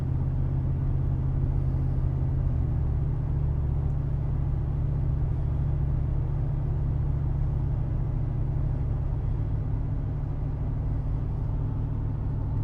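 Jeep Cherokee XJ with a swapped LS 6.0 V8 and six-speed gearbox cruising at light throttle on the road, a steady low engine drone and road rumble that holds even and unbroken throughout, with no voices.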